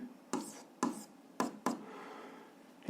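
A pen taps and scratches on paper while algebra equations are written out, four distinct strokes in uneven rhythm, close and quiet, then a softer trailing scrape.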